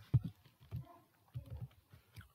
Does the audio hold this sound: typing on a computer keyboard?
yes